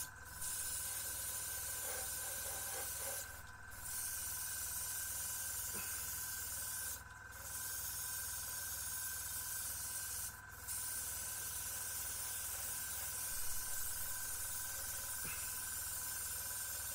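Continuous steady airbrush paint-spray hiss runs nearly the whole time, broken by three brief pauses, close and even, with no talking.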